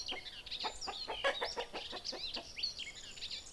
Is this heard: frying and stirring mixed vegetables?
no